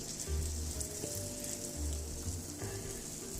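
Pancake batter sizzling in a hot pan as a spatula spreads it, a steady close crackle with soft scraping thumps from the spatula, no talking.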